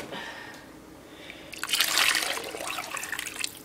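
Water pours into a pot for cooking rice, starting with a faint trickle and then swelling into a brief, close gushing fill before tapering off, with no talk.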